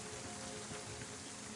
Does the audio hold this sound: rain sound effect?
yes